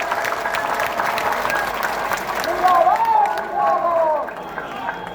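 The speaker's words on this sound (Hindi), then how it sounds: "मैं कहता हूं जोरदार तालियों से हमारे दोनों सीनियर साथी का स्वागत करिए।" A crowd of teachers at a sit-in protest applauds loudly, with steady clapping and murmurs while someone speaks over it through a loudspeaker.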